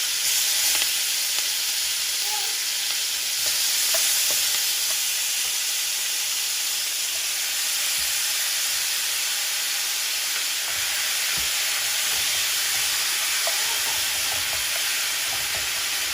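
Jamaican-style oxtail browning in a hot pot, a loud, continuous sizzle and frying hiss that stays steady from start to finish with faint stirring scrapes, no voices.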